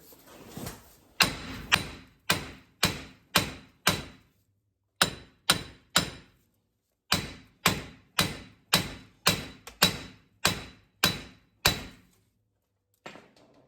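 Repeated sharp metallic hammer blows on a wheel hub during a wheel bearing replacement on an Infiniti Q50 ring out in quick bursts, about a dozen strikes with brief pauses between groups.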